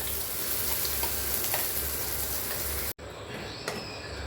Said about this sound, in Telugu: ఇప్పుడు ఈ మిక్సీ పట్టింది ఈ పోపులో వేసుకొని బాగా మిక్స్ చేసుకోవాలి